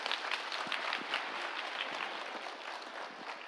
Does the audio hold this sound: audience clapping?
yes